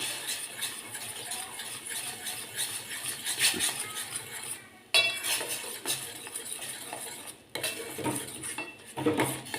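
Kashmiri red chili sautéing in a pan, with a spoon scraping and clinking against metal in repeated stirring strokes, close and fairly loud, with brief pauses between bursts.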